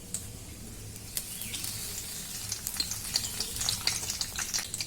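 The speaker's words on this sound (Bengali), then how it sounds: "গোটা জিরে দিয়ে দিলাম। গোটা গরম মশলা দিয়ে দিলাম। তেজপাতা দিয়ে দিলাম।" Whole cumin, whole garam masala and bay leaf sizzle and crackle in hot oil for a jackfruit curry, a steady close fry with scattered small pops growing busier toward the end, no voice over it.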